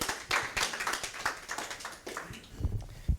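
An audience at a startup legal talk claps in a short, fairly sparse burst, with individual hand claps standing out and then trailing off.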